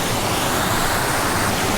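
A flood-swollen river rushing through a washed-out valley toward a waterfall near the Beartooth Highway, a loud, dense, steady roar of water close by with no voices.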